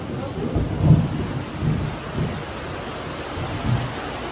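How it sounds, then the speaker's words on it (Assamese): A thunderstorm with steady rain hissing throughout and several low rolling rumbles of thunder, the loudest near the start and another toward the end. "ইমান বিজুলী মাৰিছে"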